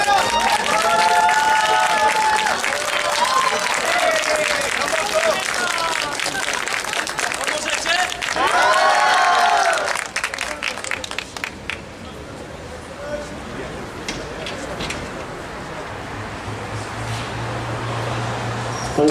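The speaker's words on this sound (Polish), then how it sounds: "Wielkie brawa dla Przemka." Squash match audience in Bielsko-Biała applauding and cheering for player Przemek, a loud sustained burst of clapping that carries on for several seconds, then fades to a quieter murmur of crowd chatter.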